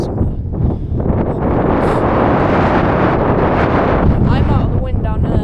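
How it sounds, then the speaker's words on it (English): Strong wind buffets the microphone at a wild camp on the rim of an ancient volcano, a loud continuous roar and rumble that fills the whole stretch with gusty texture. "way too windy for my tent"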